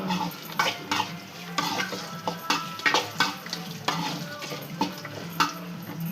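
Food fries in a pan while turmeric and salt are stirred in, a steady sizzle broken by repeated scraping and clinking strokes of a spoon against the pan.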